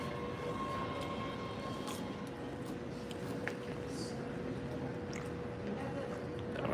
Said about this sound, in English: the train is starting to slowly emerge.